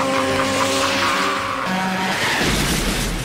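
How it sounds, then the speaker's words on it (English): In a film scene from A Nightmare on Elm Street 5, a truck roars and its tires screech before it crashes into a semi. The loud, sustained engine and skid noise swells into a broad, harsh crash near the end. "Alice rushes out of the cafe, only to find that Dan's truck has crashed into a semi."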